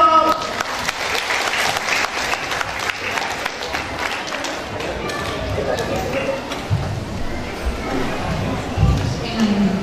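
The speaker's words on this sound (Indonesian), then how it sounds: "Tepuk tangan dong." Sustained applause from an audience fills the whole stretch, steady clapping with some crowd murmur underneath.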